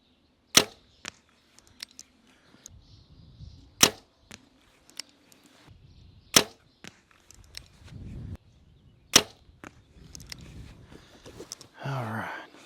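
Arrows shot from a bow strike a target, giving four sharp, loud cracks spaced a few seconds apart, with quiet rustling and a brief low voice murmur between them.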